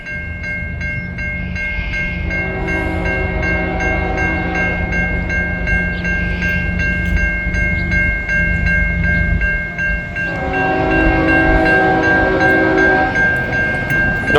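A Norfolk Southern train roars past a road crossing at close range, its horn blaring in long chords over the rumble and clatter of the cars. Crossing bells ring throughout.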